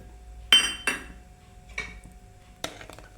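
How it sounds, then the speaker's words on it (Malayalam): A spoon clinks and scrapes against a pot while payasam with cardamom and sugar is stirred, giving a few sharp metallic knocks spaced apart over quiet background. "ഇനിയിത് നന്നായിട്ട് ഇളക്കി യോജിപ്പിക്കാം."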